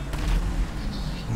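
A quad fires a missile in GTA 5 Online, a deep booming blast with a heavy low rumble that fills the whole short moment, with voices talking under it.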